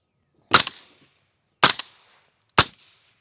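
Suppressed Daniel Defense DDM4 V7 rifle in 5.56 firing Fiocchi 55-grain FMJ rounds, three sharp, loud cracks about a second apart, each trailing off in a short outdoor decay.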